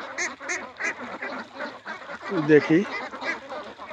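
Italian breed ducks on a farm quack in short, repeated nasal calls spaced through the clip, fairly close, while someone speaks briefly over them.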